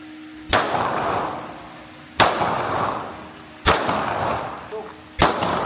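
Four loud, sharp gunshots from a firearm on an outdoor training range during a shooting drill, spaced about one to one and a half seconds apart, each with a booming echo that trails off before the next.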